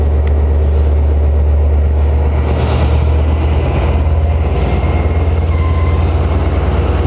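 A passenger train rolls steadily up close, its broad low rumble and rail noise constant throughout, with a faint high whine and a few brief squeals, and no voices.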